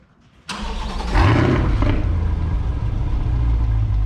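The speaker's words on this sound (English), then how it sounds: "We're gonna give her a cold start." A Chevrolet Corvette C8 Z51 cold start: a sharp starter burst, then the engine catches with a loud rising flare before settling into a deep, steady, rumbling high idle, heard close and alone.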